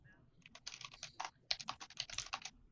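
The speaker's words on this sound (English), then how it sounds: "He's typing." Rapid typing on a computer keyboard, with bursts of crisp key clicks at an irregular rhythm, fairly close and alone with no voices.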